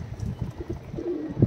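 Rajasthani pigeons in a loft give soft, close cooing, a few low pulsing coos in quick succession with a brief louder call at the end.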